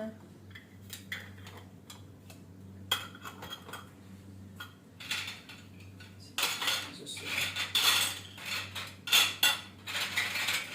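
Lids are set onto containers with a run of light clinks, clacks and taps, close and irregular, growing busier toward the end over a faint steady hum.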